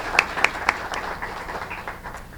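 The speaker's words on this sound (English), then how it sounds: "Let's give you all a great round of applause." Audience applause for students at a Student of the Month event, opening with a few sharp distinct claps before settling into a softer, scattered patter that gradually thins out.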